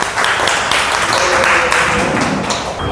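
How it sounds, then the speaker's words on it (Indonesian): Loud, continuous clapping from a group filling the room, with scattered sharper claps and faint voices mixed in. "tepuk tangan buat Reinhard"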